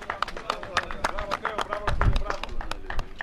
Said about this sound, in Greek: Έλα, έπεσε το χειροκρότημα.